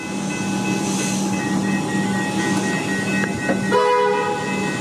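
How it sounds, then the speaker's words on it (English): A Comeng electric suburban train pulls away from a station platform, its steady hum and rolling noise continuous throughout, with a brief sharper clank and a rising tonal whine near the end. "Get this picture of this Comeng leaving."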